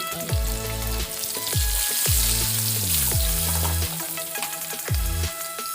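Steady, close-up sizzling of green chilies sautéing in a pan with turmeric for mango rice, with low electronic musical tones sweeping down repeatedly underneath.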